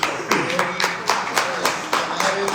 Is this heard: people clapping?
yes